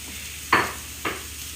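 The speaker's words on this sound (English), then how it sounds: "Let me give my mushrooms a little stir here" Two distinct scraping stirs of mushrooms in a pan, cooked ahead as a homemade pizza topping, each a short swish about half a second apart over a faint low background hum.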